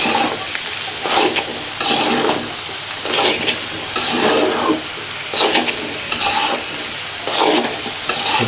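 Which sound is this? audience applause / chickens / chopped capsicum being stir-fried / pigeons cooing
chopped capsicum being stir-fried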